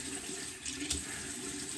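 Tap water running into a bathroom sink for wetting before a traditional wet shave, a steady hiss and splash at moderate level with a brief louder gush partway through.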